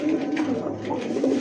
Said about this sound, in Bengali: দেখেন কবুতরটা দেখেন